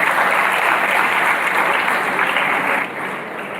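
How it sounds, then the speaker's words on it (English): An audience at a school G20 youth event gives a big round of applause for the student delegates, a loud, dense, sustained clapping that eases slightly toward the end. "Can we please have a huge round of applause for the delegates of the European Union?"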